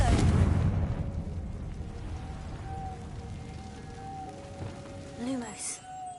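A Confringo blasting spell going off in a Hogwarts video game: a loud rumbling burst at the start that fades into a crackling, rain-like hiss, with a faint tone and a brief later flare, voices nearby.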